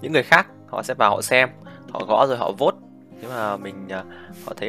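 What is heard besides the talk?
None of the usual background noises is heard.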